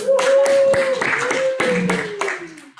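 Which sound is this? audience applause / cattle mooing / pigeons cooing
audience applause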